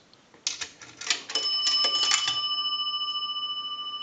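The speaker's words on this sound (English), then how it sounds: "A dime is going to ring the bell twice." A dime dropped into an Automatic Electric three-slot payphone strikes its coin bell twice in quick succession, then a clear metallic ring lingers and decays slowly.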